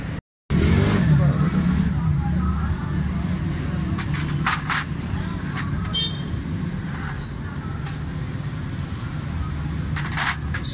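Suzuki Cultus three-cylinder car with a misfire, pickup and fuel fault, its engine idling with a steady low rumble close by, while a voice talks over it and a few sharp clicks sound.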